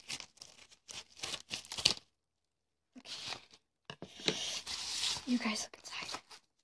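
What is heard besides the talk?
cutting open a plastic bag package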